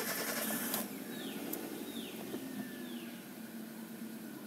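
A Chevrolet Spark 1.2L engine, just fitted with new spark plugs, cranks in a short broadband burst, then settles into a steady, fairly loud idle hum with no talking.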